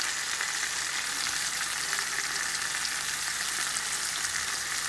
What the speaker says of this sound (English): you need to cook your salmon at least 8 minutes on each side